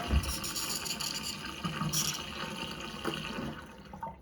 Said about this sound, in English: We're going to watch the speed that this one drains.